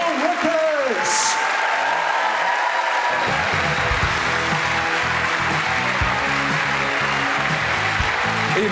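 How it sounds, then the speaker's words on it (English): A comedy club audience applauds an act, with dense clapping and crowd noise building and continuing while a voice speaks over it. "Applause good for your first act, Paul Ricketts."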